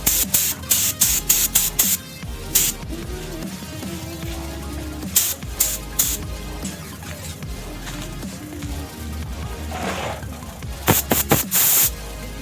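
Epoxy clear coat is sprayed onto carbon fiber in short hissing bursts, a quick series of puffs at first, then a long steadier spray, then more short bursts, close and loud.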